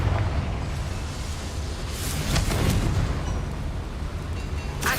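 A Confringo fire-blast spell explodes in Hogwarts Legacy, a rumbling, sustained burst of roaring noise with crackling flares, loud and close throughout.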